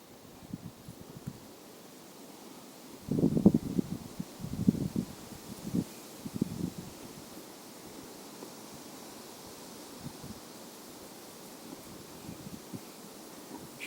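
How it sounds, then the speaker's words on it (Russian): Steady wind sweeps through riverside bushes and foliage during fishing, a continuous rushing hiss with a few louder gusty rustles early on, with no voices. "Еще бы ветер успокоился."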